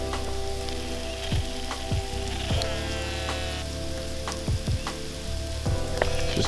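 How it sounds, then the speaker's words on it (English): Hail falling outside a garage, a dense crackling patter of pellets on surfaces over a steady hum, with a few louder scattered impacts, continuous and fairly close. "It is literally hailing outside, so good thing we have the garage today."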